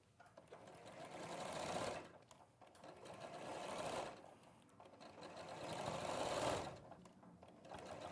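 A domestic sewing machine runs in three steady bursts stitching a quarter-inch seam through several fabric layers without a walking foot, its fast even whir rising and pausing between runs, close and clear with no talk over it.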